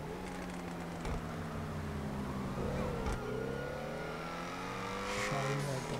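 BMW 328i engine in GTA, a steady droning hum that rises and falls in pitch as it revs and shifts, with a faint tire squeal, continuous and moderately loud without speech.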